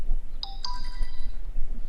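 A mobile phone ringtone sounds close and clear while fishing, two bright electronic tones ringing out then fading, with no talk over it.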